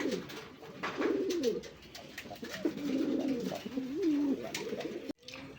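A caged male Raj Golla pigeon coos steadily and insistently at close range, in a string of rolling calls with no talk over them.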